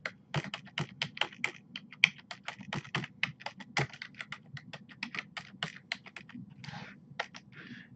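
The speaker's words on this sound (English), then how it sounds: "I'm always a little rough at typing" Close, rapid typing on a computer keyboard: a fast, uneven stream of sharp key clicks with brief pauses, alone in a quiet room.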